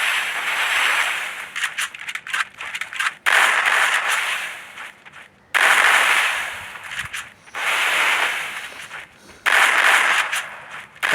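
Gunfire in the mobile game Free Fire, with sharp rapid bursts of shots in several loud clusters separated by brief pauses, close and clear.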